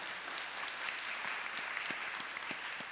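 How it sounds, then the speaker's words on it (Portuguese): A church congregation claps together in steady, sustained applause, a dense even wash of many hands filling the room, without talk over it. "Então vamos dar uma salva de palmas para o Espírito Santo de Deus."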